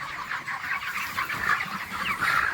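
Broiler chickens in a poultry shed, 31 days old, keep up a busy chorus of overlapping clucks and chirps, steady and close throughout.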